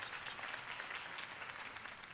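Crowd applause in the Batman Telltale video game, after a Harvey Dent campaign speech; a steady wash of clapping holds at an even level for about two seconds with no voices over it.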